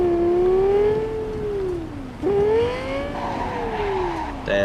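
A car engine in Minecraft revs up and falls back twice, its pitch sweeping smoothly in close, loud, sustained whines with no talking.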